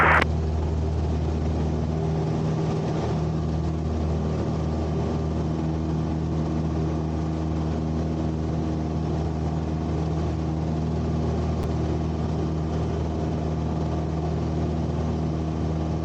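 A Cessna Skyhawk light aircraft engine roars at takeoff power in a continuous, loud, steady drone during the climb after departure, heard from inside the cockpit.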